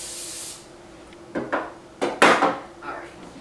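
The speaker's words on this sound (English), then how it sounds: "take some non-stick cooking spray and get it nice and covered" Non-stick cooking spray hissing into an 8x8 baking dish in short, sharp bursts, several quick sprays close up, with faint clatter from the dish between them.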